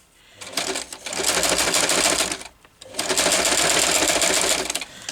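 A sewing machine stitches down the centre of a handmade craft journal in two fast, loud, close bursts of rapid mechanical rattling separated by a brief pause.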